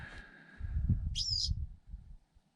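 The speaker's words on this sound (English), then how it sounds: "It's a fantail being a bit squawky at the moment." A fantail calls once with a short, sharp squawky chirp. It comes during a wet tramp near Packhorse Hut, over low rustling and footstep-like noise, and no one speaks.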